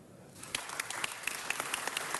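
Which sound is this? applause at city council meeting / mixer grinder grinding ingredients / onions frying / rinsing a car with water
applause at city council meeting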